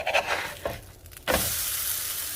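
A bean and cheese empalme fries in rendered bacon grease, faint crackling at first, then a loud, steady sizzle bursting up once it is flipped and continuing to the end.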